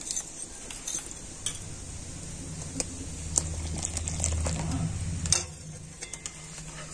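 Milk mixed with custard powder being stirred in a pan, heard as faint, steady scraping with occasional light clinks of the utensil against the pan, close and quiet.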